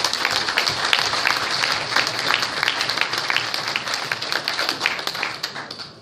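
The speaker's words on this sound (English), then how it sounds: "Give them a massive round of applause." Sustained audience applause for newly joined members at a political gathering, a dense wash of many hands clapping steadily and fairly close for the whole stretch, with no voices standing out.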